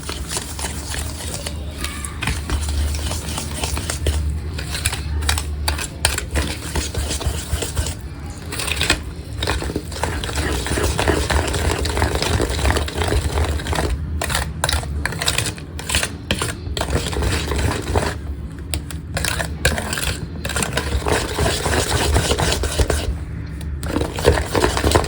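Unibic biscuit cake ingredients are mixed in a bowl, giving a continuous loud crunching and scraping that keeps going for a long stretch with brief pauses.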